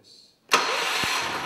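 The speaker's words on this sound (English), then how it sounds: "Then turn the key to start the generator." A petrol generator starting with a key: a brief starter whir, then the engine catching abruptly and running on at a steady, close, loud hum with one low thump just after it fires.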